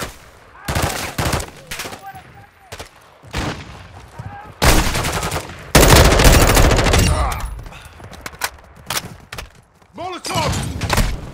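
Rapid automatic gunfire and heavy thumping shots from the Call of Duty DMZ video game crackle in loud bursts with brief gaps, mixed with in-game radio voices and explosive impacts.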